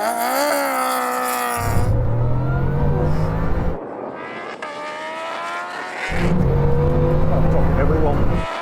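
A race car engine accelerating hard, its loud revving climbing in pitch in repeated surges with brief drops between gear changes, close and dominant throughout.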